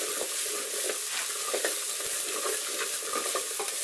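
Cumin seeds, chopped chilies, onion and garlic fry in oil for a vegetarian chili, giving a close, steady sizzle with quick stirring scrapes and taps and no voices.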